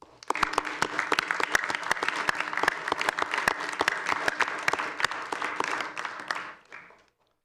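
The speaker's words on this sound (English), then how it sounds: "So I'd like to give them a round of applause because they did a great job." Attendees at a village board meeting applauding, a modest group clapping at close range with distinct individual claps in a steady patter for about six seconds before stopping.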